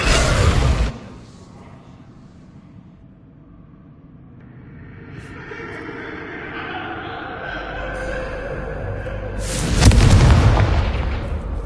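Confringo blasting curse from Hogwarts Legacy: a loud explosive burst at the start, a quieter rumbling stretch with tonal game effects, then a second heavy blast near the end.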